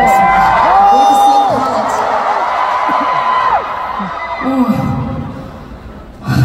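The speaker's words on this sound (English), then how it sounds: "you guys scream for it as loud as the lilac did" Concert crowd screaming and cheering at a world-tour encore, a loud sustained roar with many voices singing long held "oh" notes together, easing slightly before rising again at the end.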